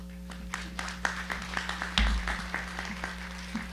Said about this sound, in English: Can we give one more round of applause for Samantha?